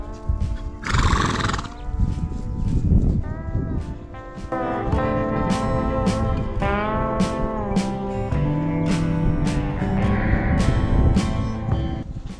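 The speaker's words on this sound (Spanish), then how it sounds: "Esta es una yegua." A mare on a ranch neighs loudly several times over the near, steady clatter of hooves, her whinnies rising and falling throughout.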